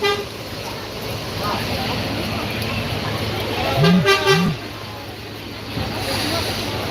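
A Gumarang Jaya bus bound for Jakarta arrives and gives two short horn toots amid steady traffic rumble, with people talking nearby.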